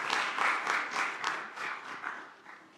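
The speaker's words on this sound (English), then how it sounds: "Applause and thank you very much." Audience applause at a formal address by an energy official, a dense, steady clatter of many hands that fades slightly toward the end, heard alone without talk.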